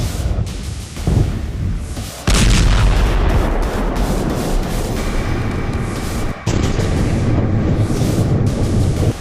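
Heavy artillery fire and explosions during Syria's civil war, loud deep booms with a sustained rumbling roar and sudden fresh blasts layered over one another, no talk.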